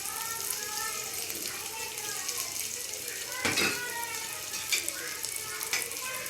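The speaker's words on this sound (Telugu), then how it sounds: "ఇప్పుడు దీంట్లోనే కరకరలాడే వరకు ఫ్రై చేసుకోవాలండి." Salted, squeezed-dry bitter gourd pieces fry in oil with a steady, close sizzle, broken by a few sharp clinks of stirring against the pan.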